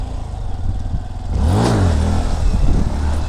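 A motorcycle engine revs up hard in first gear as the clutch is released for a wheelie, the rising whine sweeping upward loud and close, then holding a steady roar over wind noise.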